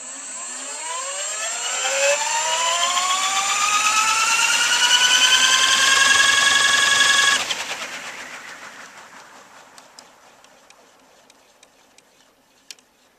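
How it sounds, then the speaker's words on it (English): The prerotator on a Little Wing gyroplane spins up with a smooth whine that rises in pitch for about seven seconds. It then cuts off and winds down into faint scattered ticks. "But it sounds smooth and it idles up nice, that's for sure."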